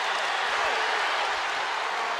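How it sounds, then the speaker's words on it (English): A Michigan State home crowd at a Big Ten college wrestling dual against Michigan roars in a dense, sustained wash of shouting and applause that fills the arena. "Spartan crowd wanted a call there and didn't get it."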